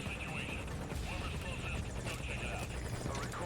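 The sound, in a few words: helicopter in video game Metal Gear Solid V: Ground Zeroes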